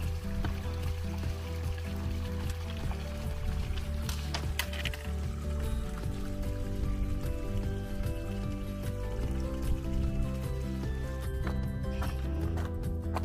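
Water is filled from a mountain stream a few steps below a high-alpine lake on the Kriški podi, with a constant rushing flow, clattering knocks of a container, and footsteps on rock, close and steady.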